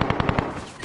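Rapid automatic gunfire in a battle royale video game, a quick burst of about five sharp, evenly spaced loud shots followed by a fading tail.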